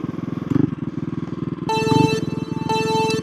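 A street mini bike engine runs rough and sputters, its rhythmic idle pulsing unevenly with intermittent spits and surges, close and moderately loud.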